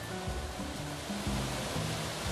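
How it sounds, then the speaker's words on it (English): Hot water pours into a wok of braising pork belly in a steady rush, continuous and fairly loud, with a low bubbling undertone and no voices. "Let's give it another bowl of hot water."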